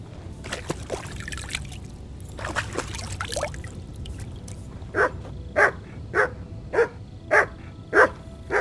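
A dog barks in Kingdom Come Deliverance 2, giving seven evenly spaced, moderately loud barks in the second half after quieter game ambience and shuffling.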